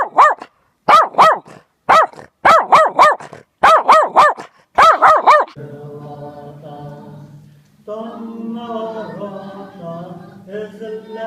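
A huge dog barks loudly and close by in a fast series of deep, evenly spaced barks, followed by quieter, murmuring background sound.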